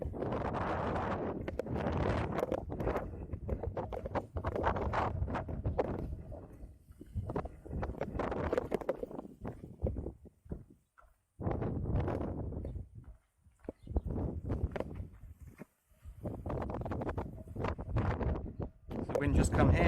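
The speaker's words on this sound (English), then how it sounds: "As soon as we do, the wind goes up." Gusty wind outdoors rumbling and buffeting the microphone, coming in long loud waves with short lulls, while people talk now and then.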